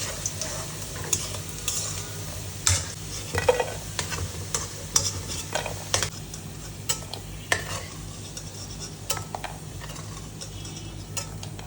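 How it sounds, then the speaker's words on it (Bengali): Cubed potatoes frying in hot oil for Bengali cabbage ghonto, a steady sizzle broken by scraping stirs and metal spatula clinks against the pan, close and alone without talk. "প্রথমে আলুগুলোকে একটু লাল লাল করে ভেজে তুলে নিচ্ছি।"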